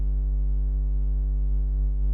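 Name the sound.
synthesizer triangle wave played without distortion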